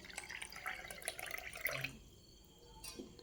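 Water splashes and drips onto a homemade shampoo pack being prepared for hair, with a steady run of small wet drips and trickles that fades into quieter dripping near the end, fairly faint and close, with no voices.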